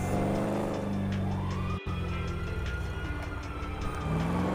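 A car engine in the video game GTA V holds a steady, loud drone with harmonic tones throughout, broken by a short cut in the middle, with no talking.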